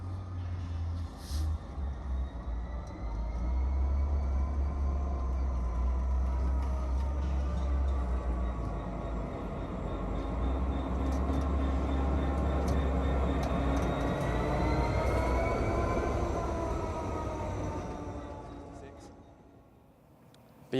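A Class 66 freight locomotive driven from the cab gives a steady low engine drone and rolling rail noise with rising and falling tonal whines, loud and continuous for most of the run before easing off near the end; talk may sit underneath.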